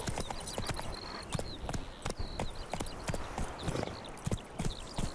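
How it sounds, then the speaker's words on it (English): Horse hooves clip-clopping at a steady trot in The Witcher 3 video game, repeated sharp hoofbeats over ambient outdoor game sounds with occasional bird-like chirps, no talking. "Whoa there, Roach"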